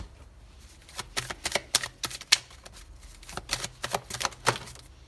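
Tarot cards being shuffled, flipped and laid down one by one for a reading, a run of sharp close papery snaps and slaps in an uneven rhythm with no talk.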